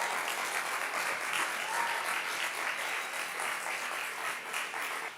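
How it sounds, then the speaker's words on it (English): An audience at a communication academy event applauds four speakers in one final round, a full, continuous wave of clapping that holds steady and tapers slightly at the end, with no speech over it. "I want one last round of applause for our 4 speakers today"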